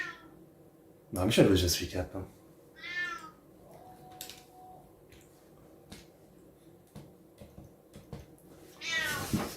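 A house cat meows a couple of times, drawn-out and fairly close, between stretches of casual talk indoors.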